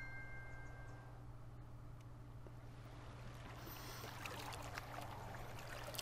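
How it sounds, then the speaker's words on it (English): Gentle flowing water from the video game Yonder: The Cloud Catcher Chronicles, a soft continuous stream over a low steady hum, swelling slightly louder toward the end. "Water sound."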